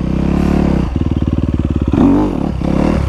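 A Honda CRF250R dirt bike engine putters and revs in short pulsing bursts during slow wheelies on a single track around a property, loud and close, rising into a brief rev before settling back.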